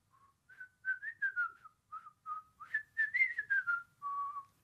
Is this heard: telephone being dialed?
no